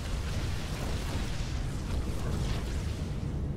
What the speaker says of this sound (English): That was the sound of a lot of dead probes.